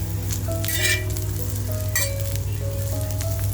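A piece of ginger drops into a hot pan, sizzling steadily, with a loud frying hiss that holds throughout and a few soft clinks.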